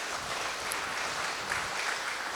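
A church congregation in Aklan claps together in a steady, dense wash of applause, moderately distant and fairly quiet, with no voices over it.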